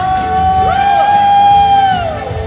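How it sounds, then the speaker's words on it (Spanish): Church congregation at a Sunday service lets out a loud, rising shout of joy, one strong sustained voice over a dense crowd roar, close and intense. "A ver que se oiga ese grito de júbilo."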